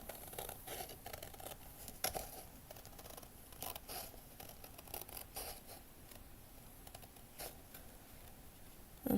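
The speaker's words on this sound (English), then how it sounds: "So I'm just gonna cut really carefully here along my line." Scissors cut carefully along a marked line while a miniature cat cafe garden room box is made, giving a steady run of close, crisp snips and paper rustles with short pauses.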